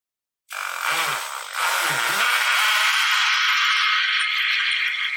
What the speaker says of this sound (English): When you have finished drilling the holes